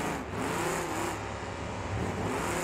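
A Chrysler 318 engine in a car in the BeamNG demolition derby game revs with a steady, loud droning roar that rises and falls slightly, close up with no talking.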